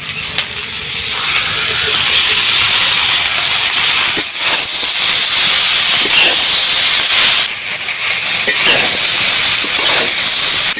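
Fried fish head and bitter gourd dropped into a hot pan give off a loud, steady hissing sizzle that carries on for several seconds close by, with faint clatter in the background.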